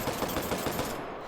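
Rapid automatic gunfire from a weapon in the VR shooter Hot Dogs, Horseshoes & Hand Grenades, a dense burst of closely spaced loud shots lasting just over a second, alone and without talk.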